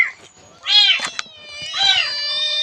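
A cat meows twice, loud and close, with a high whine between the calls and nobody speaking.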